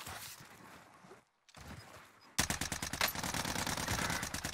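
Rapid automatic gunfire from a C58 rifle in the video game Warzone, loud repeated cracks arriving in a fast steady stream after a quieter stretch and a brief silence.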